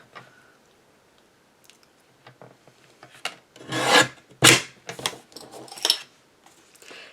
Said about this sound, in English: I'm going to trim the sides and a little bit off the bottom